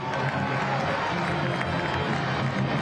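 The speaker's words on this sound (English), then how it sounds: "A much-earned pop-off from the crowd after Cameron Dunbar puts that one away right in front of goal" Stadium crowd at a USL Championship soccer match roaring after a goal, a broad sustained wash of cheering and clapping with a voice talking over it.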